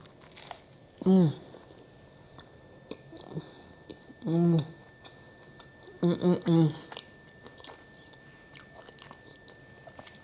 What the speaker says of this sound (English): I'm gonna just bend this over a little bit to see what it tastes like with the peanut butter.